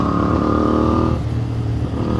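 A CFMOTO 450MT IBEX motorcycle engine with an aftermarket full exhaust system idling loudly up close with a deep, throbbing exhaust note that shifts to a rougher, lower rumble partway through.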